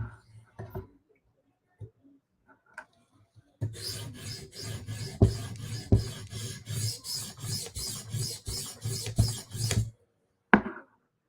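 A steady run of rhythmic rasping file strokes works along a blade edge to raise a burr, close and distinct, framed by a few isolated clicks and scrapes before and after the run.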